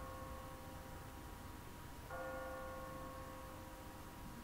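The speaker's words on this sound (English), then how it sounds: "What kind of church bell goes off at 20 past the hour?" An automatic church bell in The Walking Dead video game rings with a sustained, resonant tone, struck again about midway so a fresh, brighter chime layers over the fading hum against a steady ambient backdrop.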